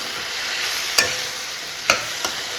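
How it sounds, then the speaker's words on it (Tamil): Coconut masala is stirred in a pan under a soft, even sizzle, with three sharp scrapes of a spoon. "இதையும் நல்லா கிளறி கொடுத்துடலாம்"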